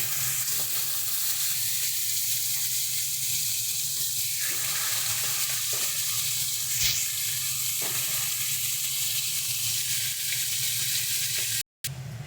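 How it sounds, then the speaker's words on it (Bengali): Pieces of fish, from a radish and shankar fish dish, deep fry in hot oil, giving a loud, continuous crackling sizzle with faint pops and stirring throughout, alone without voices, ending in a brief cut. "এরকমভাবে এক এক করে আমরা সমস্ত মাছগুলোকে সুন্দর করে কড়া কড়া করে ভেজে নেব।"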